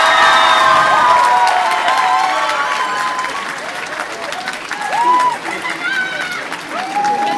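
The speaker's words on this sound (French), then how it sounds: "On applaudit les deux boursiers d'excellence majeure." A graduation ceremony audience gives loud, sustained applause mixed with cheers and shouts, and the crowd noise stays dense throughout.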